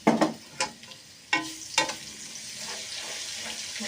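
Garlic ginger paste hits hot oil with a few sharp spatters and scrapes, then settles into a steady crackling sizzle.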